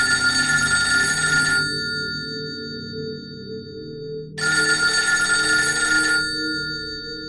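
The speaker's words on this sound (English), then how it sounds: "suddenly, the phone rang. A loud and cold ring next to the couch on a side table." An old telephone bell on a side table rings in two loud, harsh bursts, each about two seconds long, separated by a silent gap, with a low hum underneath.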